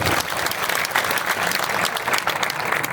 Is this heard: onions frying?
no